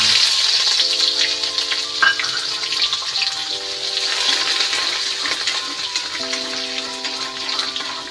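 Ginger and garlic frying in hot sunflower oil with popped mustard seeds for a tomato pickle, giving a loud, steady, close sizzle that crackles on without a break for the whole stretch.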